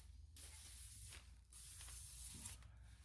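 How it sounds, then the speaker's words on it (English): PB Blaster penetrant sprayed around a SAAB rear wheel bearing in two or three short hissing bursts, close up and fairly quiet, with brief pauses between them. "I'm actually going to spray some PB Blaster around this thing"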